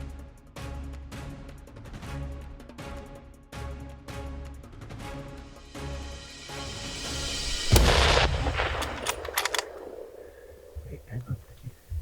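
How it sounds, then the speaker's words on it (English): Rifle shots fired at a black bear during a spot-and-stalk hunt on Vancouver Island, British Columbia: a run of sharp reports, then one loud close blast that booms and decays, with scattered voices and softer sounds afterward. "if you could take that shot in that front shoulder right in there"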